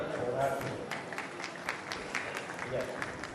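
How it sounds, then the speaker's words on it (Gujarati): A crowd at a Gujarati community get-together in Vasavad bursts into loud, sustained clapping that fills the room, with voices mixed in underneath. "એના માટે પોતાના માટે એક વાર જોરદાર તાળીઓ"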